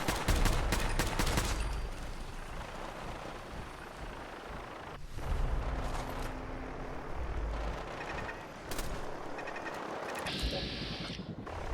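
Turrets in Fallout 4 fire in loud, rapid bursts of automatic gunfire with explosive booms, dense and continuous through the scene with brief lulls.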